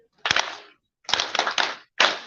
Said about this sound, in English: Our clap goes like this. It is ta, ta, ta, ta, ta.